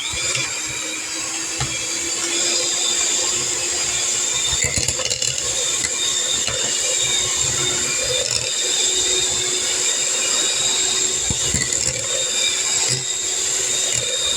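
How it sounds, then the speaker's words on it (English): A hand mixer whirs continuously at close range while pureeing cooked apples for homemade apple butter, a steady high-pitched motor drone with slight rattling from the bowl throughout. "you want to take a hand mixer and you're going to blend them into a puree"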